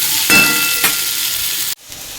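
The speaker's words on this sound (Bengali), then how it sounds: "এবার একটু ঢেকে ঢেকে ভেজে নেব।" Bitter gourd and potato slices frying in hot oil in a pan, a loud steady sizzle with a couple of stirring swells, then the hiss drops abruptly, as if a lid is put on.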